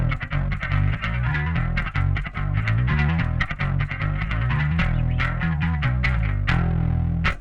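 A bass guitar plays a busy, driving line with a shimmering chorus effect thickening the tone, loud and up close, no speech.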